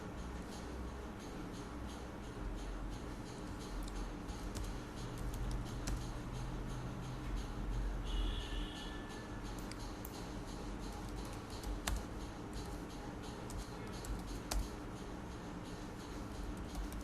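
Soft, quick keyboard clicks while typing a reason into a Creative Fabrica designer account form on a computer, steady and close over a constant low background hiss, with no talking.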